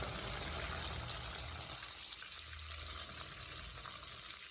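Chicken pieces fry in a pan on a medium flame, a soft steady sizzle that thins slightly toward the end, heard alone without speech.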